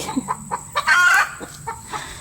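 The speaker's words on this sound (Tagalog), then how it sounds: "Nagalit yung manok sa akin" A chicken clucks in short agitated bursts, rising into one louder squawk in the middle before settling back to a few sharp clucks, close by.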